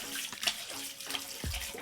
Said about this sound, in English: Then I'm gonna run them under cold water in a bowl to quickly chill them.